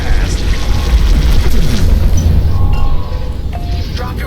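Continuous deep rumbling blasts of bombs detonating in Star Wars: Squadrons, a loud, dense roar of explosions with no voices.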